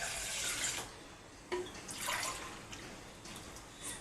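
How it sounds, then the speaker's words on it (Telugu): Two glasses of water go into an empty cooking pot in two short splashing pours, close and fairly soft, with quieter trickles and drips between them, ahead of making ragi porridge. "ఒక 2 గ్లాసులు వాటర్ అయితే వేస్తున్నాను."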